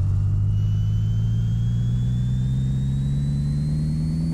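Simulated BMW M4 engine in the video game Pixel Car Racer revving on a dyno, a loud, steady engine drone that climbs slowly in pitch as the revs build, heard alone without any talking.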